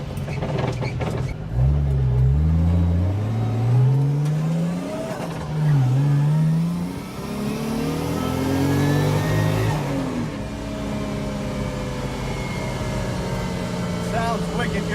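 A Mazda FC RX-7 drift car with a swapped 1JZ engine revs hard, its pitch sweeping up and down in repeated loud pulls before settling into a steadier drone, close by and dominant.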